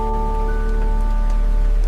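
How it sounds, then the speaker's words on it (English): Heavy rain drums steadily on a roof at night, a dense continuous wash with a faint low hum beneath and no break in the downpour. "The rain outside grew heavier still, drumming steadily against the roof"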